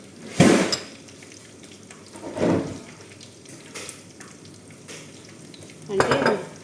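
A spoon scrapes and clinks as ketchup and chili sauce are mixed in a bowl, in three separate stirring bursts with quiet pauses between them.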